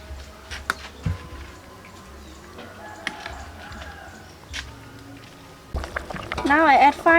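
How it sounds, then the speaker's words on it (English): Coconut milk poured into a simmering duck curry with onion and long bean, a soft liquid pour and bubbling that swells louder near the end, with a few faint clinks and occasional talk. "Now I add final coconut milk."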